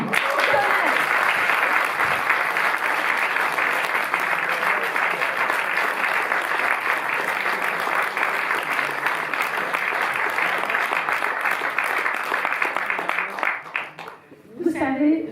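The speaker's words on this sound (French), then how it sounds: "je demande un tonnerre d'applaudissements pour Marc Henry" A cinema audience at a Paris premiere screening of "Mon nom est personne" claps in a loud, dense, sustained ovation for about fourteen seconds, then the applause tapers off abruptly and a brief sound follows.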